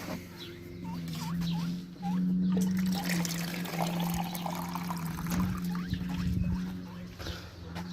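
Water trickling and pouring steadily, with a low hum and occasional squeaky chirps over the stream.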